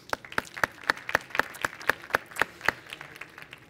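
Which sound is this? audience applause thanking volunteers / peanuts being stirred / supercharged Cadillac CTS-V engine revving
audience applause thanking volunteers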